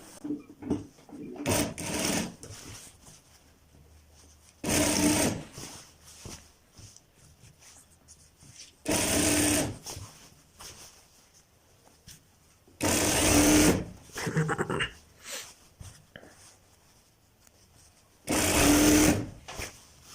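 An electric sewing machine stitches a Patiala salwar in loud bursts of rapid whirring a few seconds each, five main runs separated by quieter pauses with faint handling noise.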